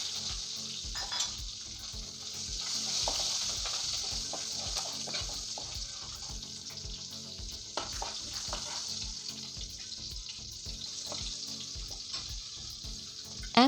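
Shallots and curry leaves fry in sesame oil with mustard and asafoetida, a steady close sizzle broken by stirring clatters and scrapes in the pan throughout.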